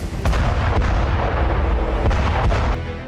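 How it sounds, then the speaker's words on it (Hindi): Cluster bomb blasts in wartime Karabakh fighting between Azerbaijani and Armenian forces: a loud, dense rumble of overlapping detonations with several sharp cracks standing out, continuous throughout with no talk. "युद्ध के तीसरे दिन से अजरबैजान ने क्लस्टर बमों का इस्तेमाल शुरू किया।"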